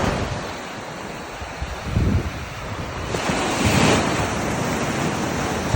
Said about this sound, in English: Got some nice swells coming in.